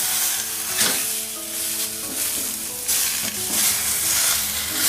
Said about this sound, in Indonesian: Goreng ikan pelan-pelan ya.